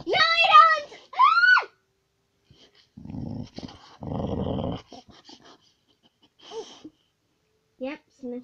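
A dog growls in deep, rough bursts while play-wrestling with a person, between the person's own vocal outbursts and shouts, with quiet gaps in between.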